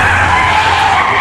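A car skids hard to a sudden stop in a dramatic film scene, a loud continuous tire screech that holds steady for just over a second with no voices over it.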